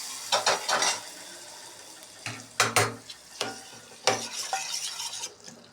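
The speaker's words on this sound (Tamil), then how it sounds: "நல்லா ஃப்ரை ஆகணுங்க." Spices tempering in hot oil for a spinach kootu, with intermittent bursts of sizzling and stirring clatter in a pan, several short loud spurts separated by quieter frying.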